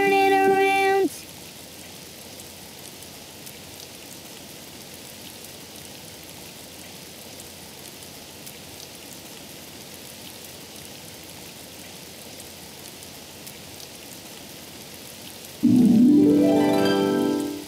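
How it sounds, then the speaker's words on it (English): Steady rain patters and hisses throughout, with brief tonal bursts near the start and end breaking over the wash of falling water. "Oh, it's raining outside."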